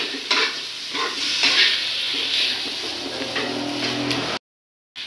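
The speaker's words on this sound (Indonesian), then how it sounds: "Ini saya aduk-aduk." Fried rice with sliced meatballs, two portions, being stirred in a frying pan: steady sizzling with repeated scraping strokes of the spatula, close and fairly loud, ending abruptly.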